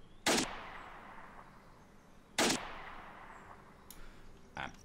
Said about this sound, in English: What if I shoot the APC?